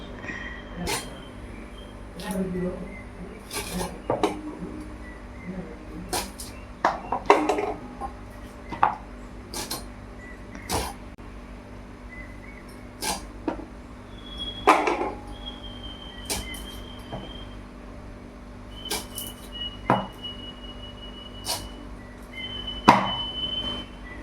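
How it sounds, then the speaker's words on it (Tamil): Sharp knife chops on a cutting board as drumstick vegetables are cut, irregular knocks and taps scattered through a quiet kitchen with a steady low hum. "முருங்கைக்காய் நறுக்கலாம் வாங்க முருங்கைக்காய் நறுக்கலாம்"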